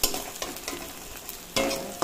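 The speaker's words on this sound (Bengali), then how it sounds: "ওইগুলো দেখো তেলের উপর পেঁয়াজটা সিদ্ধ ভাজা হয়ে গেছে" Onions fry in hot oil in a pan while aloo chowmein is being made, a steady close sizzle broken by a few louder stirring scrapes and bursts.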